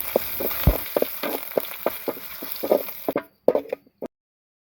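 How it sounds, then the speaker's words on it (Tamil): Curry leaves hit hot oil in a pan with a quick series of crackling sizzles and pops, close and fairly loud, then cut off abruptly into a few last spits and silence. "அதே எண்ணெயில் கொஞ்சம் கருவேப்பிலை போட்டு வறுத்து எடுத்துக்கலாம்"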